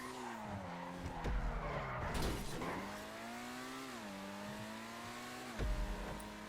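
A Benefactor Krieger supercar lapping a test track in GTA, its engine droning and shifting pitch through gear changes, with tires skidding and squealing in a couple of loud bursts through corners.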